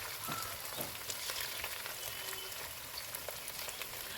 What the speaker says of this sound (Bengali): আগে থেকে যে মাংসটা রেডি করে রেখেছিলাম সেগুলো এইভাবে এক একটা করে আমি আস্তে আস্তে করে তেলের মধ্যে দিয়ে দেবো।